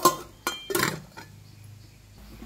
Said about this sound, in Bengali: ঢাকনাটা লাগিয়ে দেব